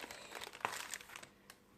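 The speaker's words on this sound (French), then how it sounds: "J'enlève tout doucement le papier." Baking paper peeled slowly off a baked génoise sponge cake, a soft, close crinkling and rustling with a sharper crackle partway through.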